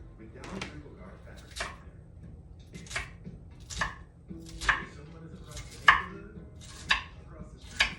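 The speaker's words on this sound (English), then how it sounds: "So what we're gonna do is cut up this onion." An onion being chopped on a cutting board, with about eight sharp knife strikes spaced roughly a second apart, close and clear, while a person talks between cuts.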